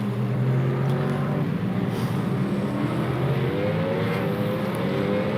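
Several race car engines drone steadily in a Super GT racing video game at Portimão, with pitch sweeping up as cars accelerate and pass, loud and continuous with no talk.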